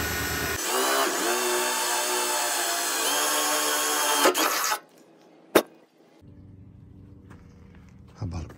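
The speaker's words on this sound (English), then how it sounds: "So to put the harness in, I might as well just get all the holes drilled in it now." A power drill bores holes through the hood of a lime VW dune buggy, a loud steady whine for several seconds that stops abruptly, followed by quieter shop noise, a sharp click and a brief second burst.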